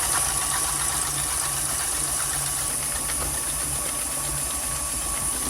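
Electric mixer running at medium speed, whisking eggs while hot sugar syrup is poured in, a constant loud motor whine and whirr with a steady hum, close and continuous.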